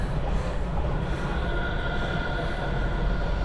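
A passenger train rolls along its rails with a steady, dense rumble and rattle, in a 2007 Indonesian horror film set on a train at Manggarai. The noise is continuous and fairly loud, with no speech.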